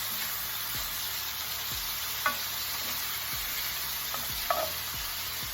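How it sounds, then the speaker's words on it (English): Vegetables for Cajun dirty rice sauté in a pan with a soft, steady sizzle and a few faint stirring scrapes. The sound is fairly quiet and continuous, with no talking. "Sauteing my vegetables up real good until they get sort of translucent."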